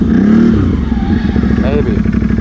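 Engine of a 2019 CFMOTO CFORCE 800 Mud Edition ATV revving steadily, loud and close, with a low droning rumble under people talking.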